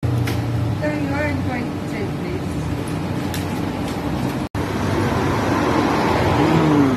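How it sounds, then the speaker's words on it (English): A broken-down van drives past on a street in Cyprus, a steady engine and road rumble rising and fading nearby while people talk over it. "There's a broken van just driving past."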